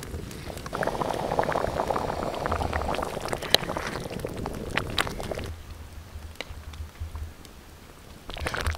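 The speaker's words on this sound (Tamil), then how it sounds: "இப்போ வந்துங்க தண்ணி வந்து நல்லா கொதிச்சிருச்சுங்க." Water for rava semiya kichadi boils in a pot, a steady close bubbling and hissing that drops off partway through, leaving faint quiet crackles before a brief burst returns at the end.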